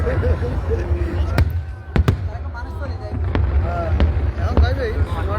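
Fireworks burst over a fire festival in Seoul, several sharp cracking bangs sounding over a loud, continuous crowd din, with voices talking nearby.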